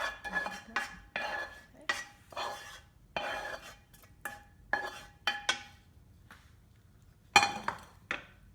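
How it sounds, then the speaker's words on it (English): Two spoons clink and scrape against a bowl while tossing chicken dressing with cooked onion and celery, in a series of sharp, close metallic taps spaced irregularly. "I've got a couple of spoons here. I'm just going to kind of toss this around, mix it up."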